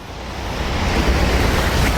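Water rushing steadily along a river, a broad continuous wash of flowing noise that swells slightly and stays loud throughout, with no voices.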